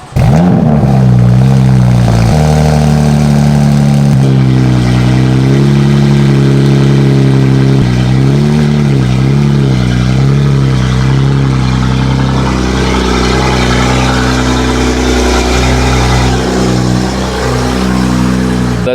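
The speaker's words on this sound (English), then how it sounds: "We're gonna give you guys a cold start right now and warm her up" BMW F80 M3 engine fitted with equal length midpipes, firing up from a cold start with a loud burst, then settling into a steady, deep, rumbling idle that continues alone at close range.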